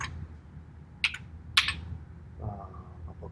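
A few sharp keystrokes click on a Commodore Plus 4 keyboard, sparse and close in a quiet room, followed by a faint soft rattle.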